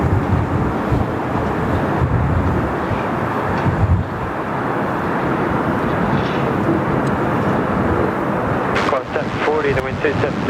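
An Etihad airliner rolls for takeoff at Sydney Airport, a loud, continuous broadband engine roar holding steady throughout, with wind buffeting on the microphone.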